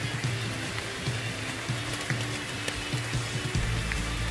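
Steady rain falls on a mountainside, a dense even hiss with occasional brighter drop spatters and a low rumbling undertone throughout.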